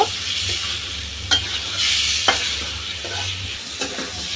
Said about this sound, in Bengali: এটা দিয়ে 1 মিনিটের মতো নেড়ে চেড়ে মশলার মধ্যে ভেজে নেব।